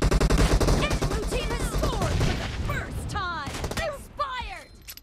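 Rapid gunfire from PUBG Mobile, a loud burst of shots at the start followed by more scattered shots, with a voice talking over the game sounds.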